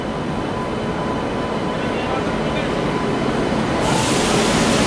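Tejas Rajdhani Express pulling onto platform 3 at a station: a steady, loud rumble of rolling wagons with broadband noise, brightening with a hiss near the end.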